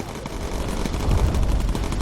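Bomber gun turrets in the game Bomber Crew fire loud, continuous, rattling bursts mixed with deep rumbling, dense and sustained with no break and no talk.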